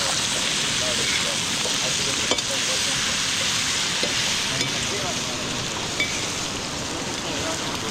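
Vegetables sizzle and crackle in a pan while being stirred over a cooking fire at a night campsite by a river, a steady close frying hiss with occasional scrapes and knocks, and voices talking faintly nearby.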